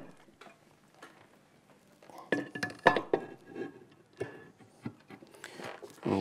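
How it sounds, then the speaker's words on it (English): A lid is fitted back onto the bottom of a Linn Klimax ExaktBox, making a few light metallic clinks and knocks while a person talks nearby. "So all that we need to do now is just put the lid back on the bottom."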